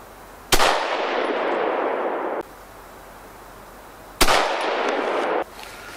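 Two sharp, loud rifle shots from a HEYM Ruger No. 1 single-shot rifle, about four seconds apart, each with a long rolling echo.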